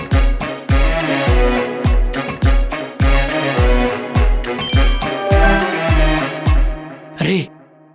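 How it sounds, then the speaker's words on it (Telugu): A phone message notification chime sounds once, short and bright, just after a stretch of loud rhythmic background music with heavy beats stops. "కుమార్ గడ మెసేజ్ చేశాడ్రా."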